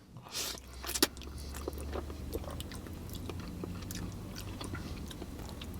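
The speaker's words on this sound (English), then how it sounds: "Let me go in for another bite." Biting and chewing Jollibee fast food, with soft repeated chewing and light crunching close up, beginning with a louder bite, set against a steady low background hum.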